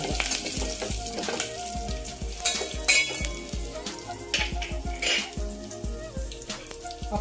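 Tempering for gongura dal sizzles in a pan, a close crackling fry with irregular pops and a few light metallic clinks of a utensil, steady throughout and free of speech.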